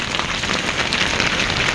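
A downpour pours steadily outdoors, its close, loud, even patter of countless raindrops filling every moment.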